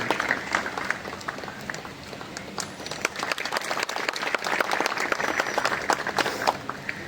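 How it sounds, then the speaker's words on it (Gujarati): An audience at an International Whale Shark Day event at Bhidiya Harbour, Veraval, welcomes guests with sustained, dense applause made of many overlapping claps, steady and moderately loud throughout. "મિત્રો આપણે તાળીઓથી વધાવી આપણે આગળ મહેમાનોનું આપણે અભિવાદન કરી રહ્યા છીએ"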